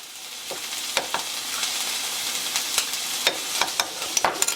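Minced garlic sizzling in a pan of beef stir fry, a steady close hiss of frying with scattered sharp clicks and scrapes of stirring throughout.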